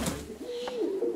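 A single soft, low coo from a quiet-natured domestic pigeon held by a breeder in Sumy, close and clear with a faint hush behind it.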